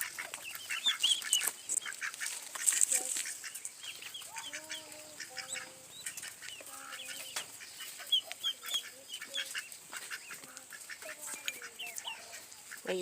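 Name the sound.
domestic ducks and chickens in the yard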